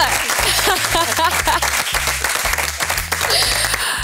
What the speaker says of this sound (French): Voilà, vous pouvez l'applaudir.